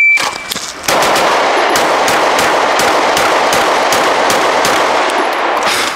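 A Staccato P Duo pistol fires a fast bill drill from a duty holster, a loud close string of rapid shots in even succession after a brief quiet start.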